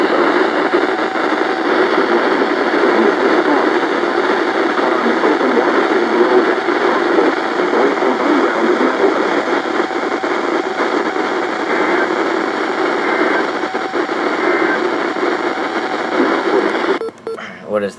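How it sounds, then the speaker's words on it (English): An emergency alert system marine warning plays over a radio on a very weak signal, a continuous loud wash of static and hiss with a distorted broadcast voice buried beneath it, cutting off abruptly at the end. "What is that, the 7th shittiest signal marine warning ever?"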